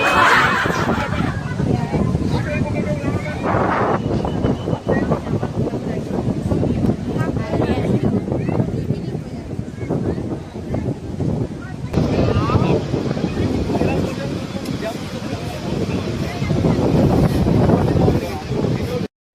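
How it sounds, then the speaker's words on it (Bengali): Strong sea wind at Digha beach buffets the microphone in a continuous loud roar, with voices faintly audible beneath it. "কি সুন্দর বাতাস"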